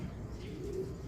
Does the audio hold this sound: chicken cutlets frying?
no